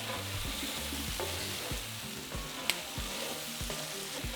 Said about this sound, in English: we're going to return our shrimp along with the potatoes. And mix it all together.